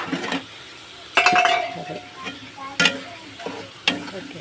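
A spice paste is being fried, and pre-boiled ingredients are tipped into the pan. Loud clanks and scrapes of a utensil against the pan come in bursts over a low frying hiss.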